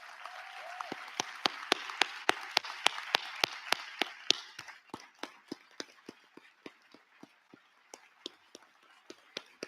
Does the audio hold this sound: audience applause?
yes